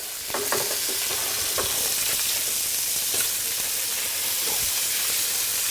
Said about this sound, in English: That fish is almost cooked up halfway through. So now we're going to take and do a little flip.